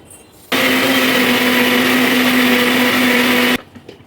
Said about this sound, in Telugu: బాగా మెత్తగా గ్రైండ్ చేసుకోవాలి.